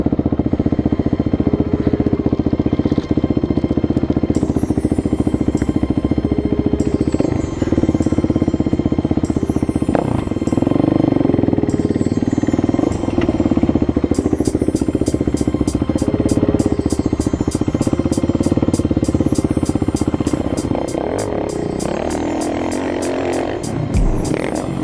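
Dirt bikes run on a deep, muddy motocross track, several engines droning steadily at a distance with rising and falling revs, while a rapid ticking rattle comes in close for the second half.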